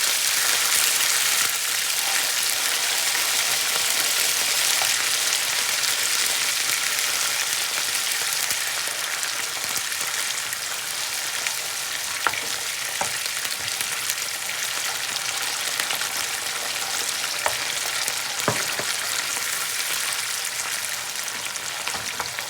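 Chopped tomatoes and onion fry in a pan on a gas stove for a Tunisian omelette dish, a dense, steady sizzle throughout with occasional faint clicks and stirring taps, no voices.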